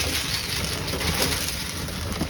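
Pigeons in a racing loft coo in a dense, overlapping chorus close by, with soft rustling and no speech.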